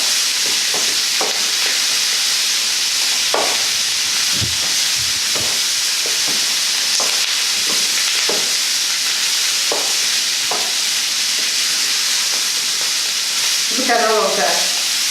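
Brussels sprouts and dates toasting in a frying pan, a loud continuous sizzle and crackle with occasional stirring scrapes and a brief utensil clatter near the end.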